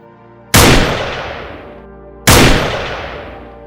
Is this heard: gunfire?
yes